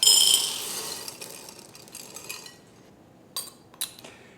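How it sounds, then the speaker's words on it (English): Corn kernels tip into a medium-sized bowl with a bright rattling clatter at the start, fading into scattered light clinks and two sharp knocks near the end, no voices. "Put the corn in a medium-sized bowl."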